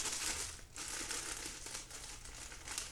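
A cake mix package for a pistachio cake is torn open, giving close, steady plastic crinkling and rustling with a brief pause near the start, no voices heard.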